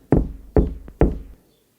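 Three firm knocks land on a door at an even pace, close and sharp, with the last one fading into silence.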